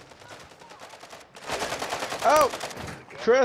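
Bursts of automatic gunfire crackle in a Call of Duty raid, mid-distance and dense, while players talk over the shooting.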